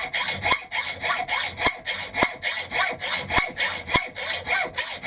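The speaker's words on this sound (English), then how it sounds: "it's a pleasure to use a new hacksaw blade" A new hacksaw blade cuts through a workpiece for a ball turning tool, giving steady, close back-and-forth rasping strokes in an even rhythm of about two strokes per second, with no voices.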